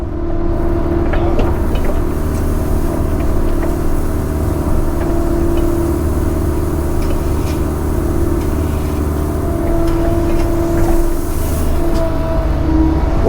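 A Kobelco excavator runs steadily while placing pea gravel, its engine a loud, continuous low drone with a constant hum and occasional faint clanks over roughly thirteen seconds.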